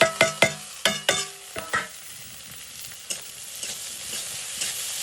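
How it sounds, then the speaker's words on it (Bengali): Onions and tiny baby shrimp frying in a pan, stirred with a utensil: a run of sharp clattering scrapes in the first two seconds, then a steady sizzle with a few later knocks. "পেঁয়াজটাকে খুব ভালো করে ভাজবো।"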